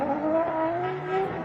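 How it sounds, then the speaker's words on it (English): A 2JZ-powered Nissan S15 drift car driven hard to heat its tyres before a drift run at night, its engine droning loud and steady with rising, wavering pitch and a faint tyre squeal. "Getting some heat back into those tyres."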